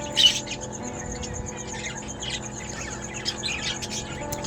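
Pet lovebirds chirp in short, scattered bursts over a low background hum, with a louder tweet near the start.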